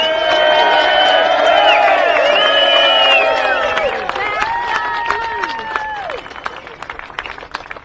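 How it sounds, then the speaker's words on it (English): Rally crowd at an outdoor support event in Aurora, Colorado, erupting in loud cheering, whoops and shouts over steady clapping, with the voices thinning after a few seconds into scattered claps and calls. "And those guys deserve a big round of applause as well."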